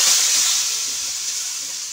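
Hot deggi chili tempering poured onto kadhi sizzles loudly and steadily with a bright hiss, fading slightly as it settles, no voices present.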